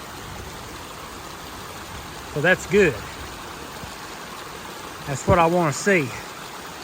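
Steady broadband rush of storm runoff pouring along a ditch toward a hollow after heavy July rain at an excavated pond-bottom site, continuous and fairly close, with someone talking over it in two short bursts.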